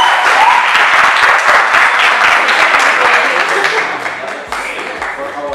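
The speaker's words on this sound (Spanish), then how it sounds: "Otro fuerte aplauso para nuestros." An audience at a youth peace and reconciliation course session gives a strong round of applause, dense close clapping that carries on loudly before thinning and fading toward the end.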